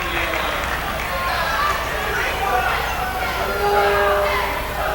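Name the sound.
loud basketball crowd in the arena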